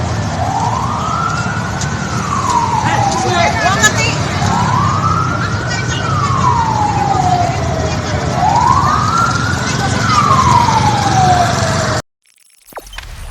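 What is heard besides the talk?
ambulance siren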